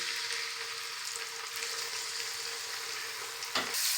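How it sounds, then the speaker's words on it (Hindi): Garlic ginger paste sizzles steadily in hot oil in a pan, a continuous close crackling hiss, with a brief stirring scrape near the end. "अब हम इसमें 2 चम्मच लहसुन अदरक का पेस्ट शामिल कर देंगे"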